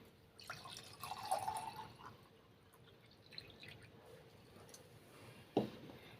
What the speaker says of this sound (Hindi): अब हमें इसके अंदर जल भरना है।